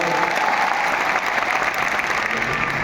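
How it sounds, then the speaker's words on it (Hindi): Sustained audience applause at a direct-selling meeting, a dense, steady wash of many hands clapping from start to finish, loud and even with no voices on top. "ताली तो बजा दो यार, इतना बड़ा रिजल्ट"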